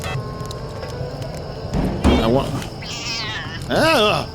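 A cat in Deus Ex Invisible War gives several rising, wavering meows, loud and close, over game ambience and background talk.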